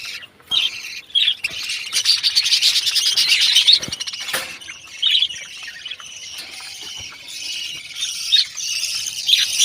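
Caged pet birds, a pair among a larger flock, chirping and tweeting steadily and fairly close by, a busy overlapping chatter with squeaky calls and brief pauses, no talking heard.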